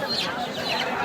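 A Brahma breed chicken clucks briefly at a busy village livestock market in Sonargaon, Narayanganj. The short, faint clucks are partly buried in a steady wash of crowd chatter and market noise.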